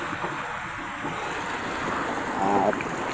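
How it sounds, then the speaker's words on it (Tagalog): Sea waves wash around a small fishing boat as steady broadband noise with wind buffeting the microphone, swelling slightly toward the end, while a brief voice or tonal sound rises near the close. "simula na naman ang alon guys."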